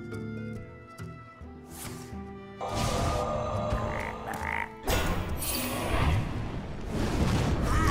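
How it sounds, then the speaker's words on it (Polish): Frogs croak in the Hearthstone card game amid game effects, a busy mix of croaks, booms and whooshes that grows louder and denser partway through. "Ja mam kupę żab."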